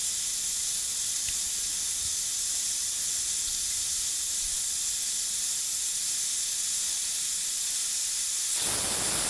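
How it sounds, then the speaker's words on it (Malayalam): A pressure cooker cooking mutton curry releasing steam, a strong, steady hiss held close and loud for several seconds, swelling sharply near the end. "ആറ് വിസിൽ ഇപ്പോൾ ആയിട്ടുണ്ട്"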